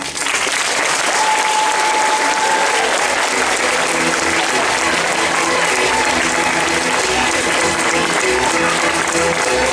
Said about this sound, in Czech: Takže váš potlesk patří i jim.